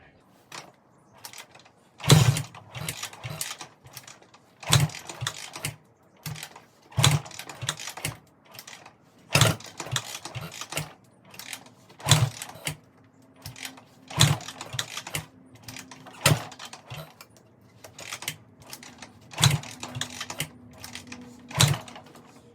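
Honda XR650R motorcycle engine cranked over and over without firing: a run of rhythmic mechanical kicks and clatters repeating every couple of seconds, close and fairly loud, with no steady running note between the attempts.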